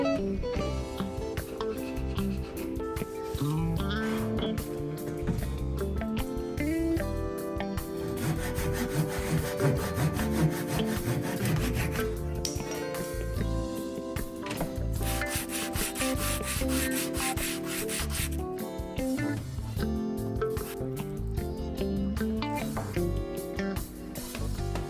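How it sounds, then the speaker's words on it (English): A chisel scrapes and pares away dried glue from joined wood pieces during an oval dining table build, giving continuous rasping, rubbing strokes, close up with no voices. "in between each, I'd like to clean it up with a chisel."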